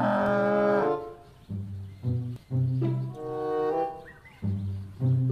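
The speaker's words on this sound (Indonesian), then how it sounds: "di sana ada sapi teman-teman." Cow lowing in the dinosaur-park game Jurassic World Evolution 2: a long, tonal moo opens the clip, followed by several shorter, clipped lowing calls at irregular intervals, loud and close with no one talking.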